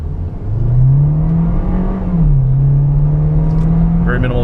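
A 2019 VW Jetta R-Line accelerates, its engine note droning steadily and rising slightly, heard close from inside the cabin with a voice talking over it.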